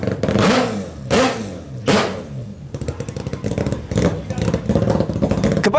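A Mazda rotary engine revs in three sharp, rising bursts, then runs on in a choppier, busier drone. The sound is loud and close, with a voice talking over parts of it.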